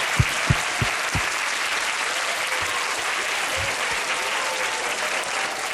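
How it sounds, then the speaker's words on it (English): An audience at a university lecture event breaks into sustained applause, dense clapping that holds evenly for several seconds, with a few louder thumps early on. "Give yourself a round of applause."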